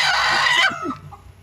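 A single broody hen's loud, harsh clucking squawk close by, rising into a drawn-out cry and then tailing off into softer clucks.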